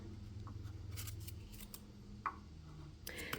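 Scissors snip a bead-weaving strand or cord for a large beaded pendant, a handful of quick, crisp cuts spaced irregularly, close and quiet with no talking.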